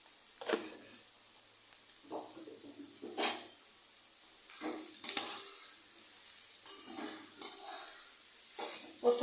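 Onions sizzling in hot oil with a pinch of salt over a gas flame, a steady hiss broken by repeated scraping stirs of a spatula against the pan, close and fairly quiet, no talking.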